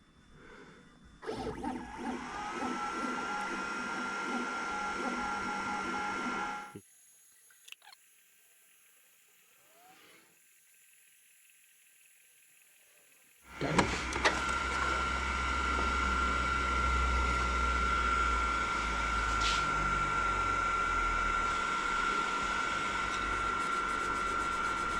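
An AlgoLaser PIXI laser engraver works across a coated tin lid at 50% power and 500 mm a minute, a steady mechanical whirr with ratcheting motor clicks that stops for several seconds of near silence, then resumes at full level.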